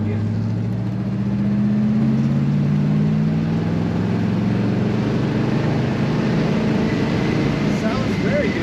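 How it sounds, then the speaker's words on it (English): A 1961 Pontiac Catalina convertible's engine pulling under throttle from inside the moving car, a loud steady low drone that rises slightly in pitch as it accelerates, with road and wind noise throughout. "Let's get on the throttle a little bit again."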